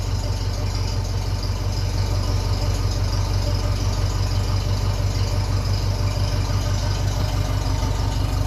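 A 1957 Ferguson 35 tractor running on TVO idles close by, a steady, unbroken low chug with an even rhythmic throb and no other sounds.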